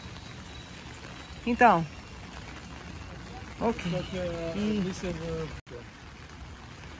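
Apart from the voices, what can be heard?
rain falling outside a cathedral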